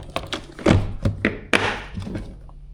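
A series of soft knocks and thuds, ending in a firmer thunk as a small equipment case lid shuts, close by with light handling noise.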